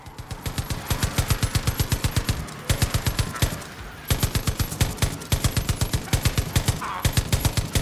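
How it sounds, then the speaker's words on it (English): High-powered machine gun firing in Far Cry 5's zombie mode: rapid, evenly spaced automatic bursts, loud and close, running in long strings with brief pauses between them. "What's next? A fucking high-powered machine gun?"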